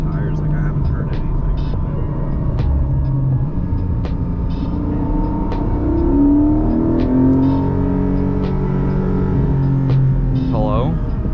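A Porsche sports car on a track at the Motor Enclave roars with a steady, heavy engine note that climbs in pitch as it revs hard, heard from inside the car.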